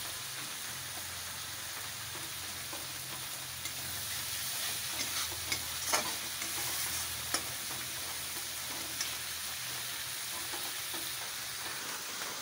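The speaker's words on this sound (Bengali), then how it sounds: "ভালো করে চিকেনটা কষে নেব। এই যে মাংসটা ভালো করে কষে নেব।" Chicken with ginger-garlic paste and salt frying in a pan, a steady close sizzle with occasional spatula scrapes and taps and a low hum underneath.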